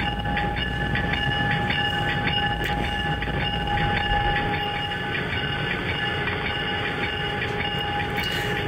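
An Amtrak train rolls slowly into a service and inspection building at Sunnyside Yard with steady rumble, faint clicks and a high squealing hum, continuous and moderately close, no voices.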